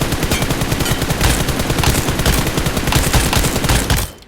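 Rapid automatic gunfire in a mobile shooter video game, loud and continuous with dense overlapping shots that cut off abruptly at the end, no talking.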